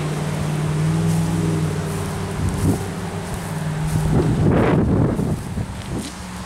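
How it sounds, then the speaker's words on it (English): Gusty wind on an overcast day outside a home in Wellington, South Florida, a steady broadband rush buffeting the microphone with a few swelling gusts, with faint low tones in the background and no talking. "Windy overcast day here in South Florida."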